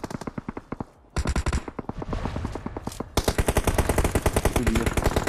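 Automatic gunfire in PUBG on the Erangel map rattles out in rapid bursts, with a short pause before a longer, denser volley of close, loud shots.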